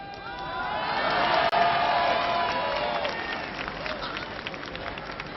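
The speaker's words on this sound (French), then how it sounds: "je crois que André Bellet mérite quand même vos applaudissements" Crowd cheering and applause in a professional wrestling arena, a swelling roar of many voices and clapping with whoops, loudest early then gradually fading, with a moment of speech rising above the noise.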